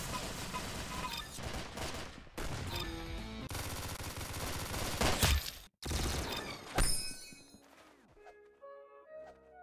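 Gunfire in the Roblox Arsenal video game: loud rapid bursts of shots with shattering impacts, a brief silent gap, then more shots fading into ringing game tones at the end.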